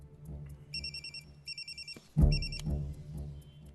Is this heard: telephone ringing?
yes